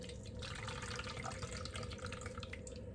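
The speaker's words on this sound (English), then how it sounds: "Lift and then gently squeeze the cloth so all the liquid will start coming out." Liquid from nut milk trickling and dripping out of a squeezed cloth bag of pulp, a steady close, soft splashing stream with no talk.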